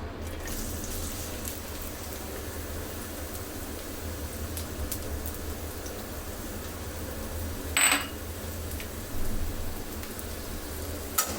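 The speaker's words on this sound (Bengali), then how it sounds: "আমি যে এখানে পেঁয়াজটা কুচু করে নিয়েছি সেটা এখন দিয়ে দিচ্ছি" Chopped onion goes into hot oil in a pan and gives a steady, even hissing sizzle throughout, broken by a couple of brief clinks.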